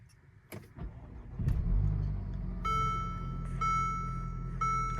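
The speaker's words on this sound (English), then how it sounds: "All right, so let's start the car." Mercedes car engine cranks with a couple of clicks and catches, settling into a steady low idle rumble while dashboard chimes beep repeatedly in a regular rhythm.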